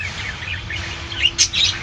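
Soft, high chirps from small Java sparrows, a few brief calls clustered toward the end over a steady low hum.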